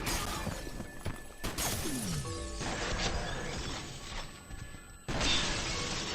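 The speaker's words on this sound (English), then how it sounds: "Why is the glass sound effects so loud?" Glass shatters loudly in the video game F.E.A.R., with a sharp crash and a sweeping whoosh, then a second burst of breaking glass near the end, all over steady game background noise.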